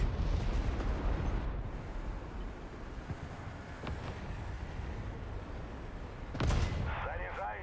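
Heavy rumbling booms and muffled blasts of a War Thunder tank battle roll on continuously, with a sharper loud burst of tank cannon fire near the end amid engine noise.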